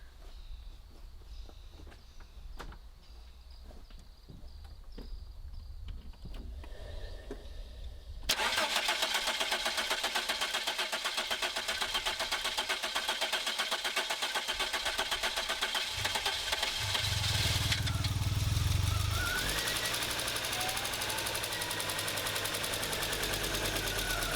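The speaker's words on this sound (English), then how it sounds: "There you guys go. It's running." A 1987 Audi 5000 S engine is primed and cranked, with faint handling noises first, then an abrupt loud catch into a steady running drone that swells briefly before settling into an even idle.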